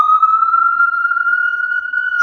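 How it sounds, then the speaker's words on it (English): A loud, steady siren tone holds nearly level throughout, slowly rising slightly in pitch, with no talking. "I'm gonna let that siren pass."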